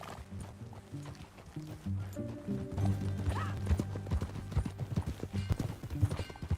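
Galloping horse hoofbeats in the Red Dead Redemption video game, a steady rapid clip-clop close by with a brief whinny and music underneath.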